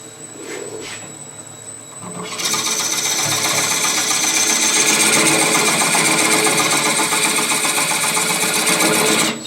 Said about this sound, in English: take the rest of it out with my gouge